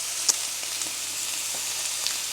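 Steak seasoned with pepper and salt sizzles steadily in a hot pan, a continuous close crackling hiss with a couple of brief sharper pops and no voices.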